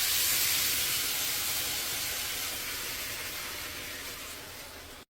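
Green salsa verde poured into a hot pan of pork ribs sizzles in a loud, broad hiss that starts strong and slowly fades, with no voices.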